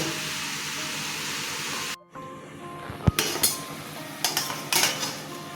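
A cooking pot lid is handled while a bottle-gourd (lau) dish simmers in a home kitchen, giving a few sharp metallic clinks and clatters after a brief hush, close and clear with no talk.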